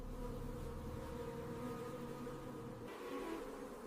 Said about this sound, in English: Hundreds of wild honeybees fly around the tree cavity.